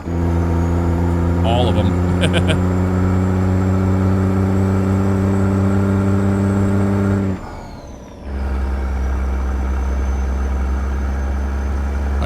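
A CAT C-15 engine in a Peterbilt 389 truck drones steadily in a driving game, with a brief dip as it shifts gears before pulling again; a voice speaks briefly.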